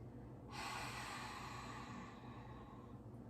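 A long, audible breath drawn in and released during a yoga cat pose, one steady airy exhalation close to the mic.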